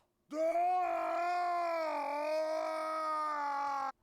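A pained groan sound effect from the video game Garry's Mod, one sustained, loud, wavering vocal moan lasting nearly four seconds, standing alone.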